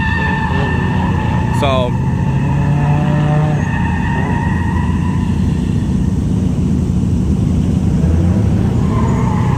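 Drift cars run at the Tsukuba Circuit Gymkhana side during a drift event, with engines revving and whining in the distance under someone talking close by.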